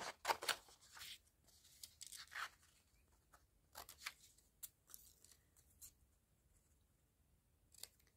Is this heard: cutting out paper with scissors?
yes